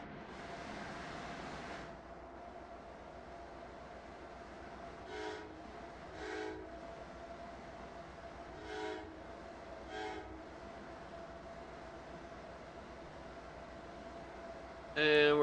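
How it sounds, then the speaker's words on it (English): Train in the Rail Sim Universe video game rolling steadily along the rails, a continuous low rumble with a steady hum, short faint bursts at intervals and a louder horn-like blast at the very end. "Still, the train is going at a pretty decent speed."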